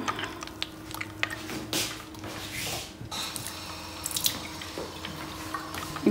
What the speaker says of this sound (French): je vais verser un petit peu d'eau, juste pour arrêter le process